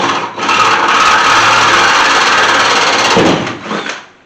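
A power drill bores a hole for a rivet nut in the metal of a 1981 Chevy C30 dually truck, one loud continuous whir running about three seconds before tapering off.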